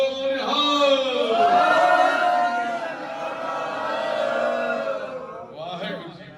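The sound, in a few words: crowd shouting Sikh jakara battle cry for birthday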